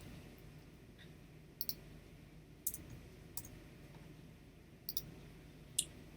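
Several sharp computer mouse clicks sound singly and in quick pairs at irregular intervals, close and crisp over a steady low room hum, with no talking.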